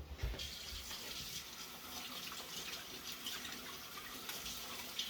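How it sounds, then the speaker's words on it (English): A kitchen tap runs steadily as hands are washed at the sink, a continuous moderate rush of water with no speech. "So let me wash my hands real quick."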